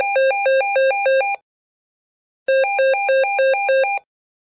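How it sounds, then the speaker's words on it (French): Black telephone in the Sims 4 game, ringing electronically in two loud bursts of rapid, warbling trill, each lasting just over a second, separated by about a second of silence. "Le téléphone noir n'apporte que des mauvaises nouvelles. Quand il sonne, comme ceci."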